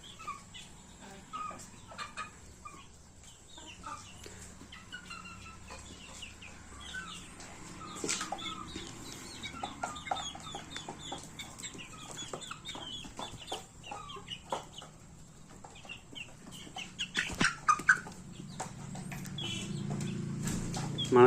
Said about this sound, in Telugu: మనకైతే ఇంట్లో పుంజులు అయితే 7 పుంజులు ఉన్నాయి.